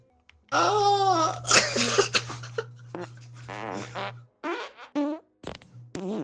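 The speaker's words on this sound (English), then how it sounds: "How are you farting?" Cartoonish fart noises from the video game Guilty as Sock, a long sputtering one followed by several shorter bursts, loud and close, with no talking over them.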